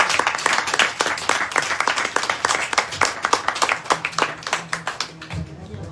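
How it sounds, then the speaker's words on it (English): An audience applauds after Adrian's full-moon katha recital: dense, steady clapping from many hands fills the whole stretch, with individual claps popping out, before thinning and fading at the end. "Devotees, all, please give him a next round of applause."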